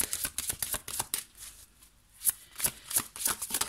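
Playing cards being shuffled up close, quick riffling bursts with a short quiet gap in the middle, fairly soft and with no talking.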